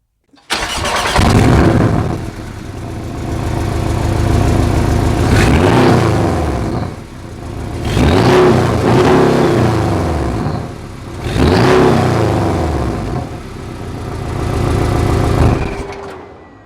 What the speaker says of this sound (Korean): 이차량에 이제 배기 소리가 궁금한데요 배기 소리 들으러 가볼게요